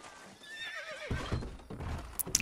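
A horse whinnies in the Red Dead Redemption video game, a rising then falling neigh, followed by a few soft clip-clop hoof steps and faint background noise.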